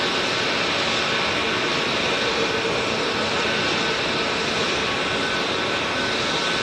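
An Icelandair Boeing 737 MAX arriving from Reykjavik lands at Manchester Airport, its jet engines giving a loud, steady broadband roar that stays constant throughout with no talk.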